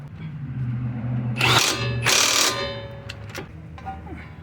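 An impact gun works a bolt low on a Honda CR-V's front suspension, two short loud rattling bursts then a few brief clicks, with low background hum.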